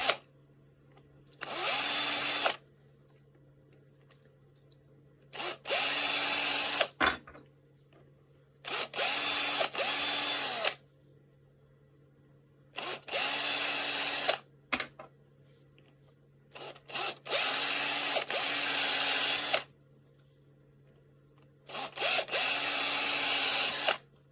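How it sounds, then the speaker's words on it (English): Power drill with a 4mm bit boring holes in a DIY robot hand wrist assembly, six loud bursts of high-pitched whirring, each a couple of seconds long, separated by pauses with a low steady hum underneath. "Change to a 4mm drill."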